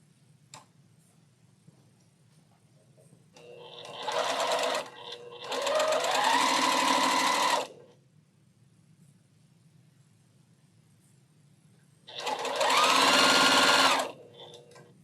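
A sewing machine piecing a quilt block runs close and loud in three separate bursts of rapid, even stitching, with quiet pauses in between.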